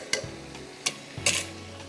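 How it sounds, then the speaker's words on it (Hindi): Garlic paste goes into hot pomace olive oil and butter in a pan, bringing a soft sizzle under three sharp clinks and scrapes of a spoon stirring against the metal. "इसमें मैं डाल रही हूँ 2 टीस्पून गार्लिक, यानी कि 1 टेबलस्पून इटालिया का गार्लिक पेस्ट।"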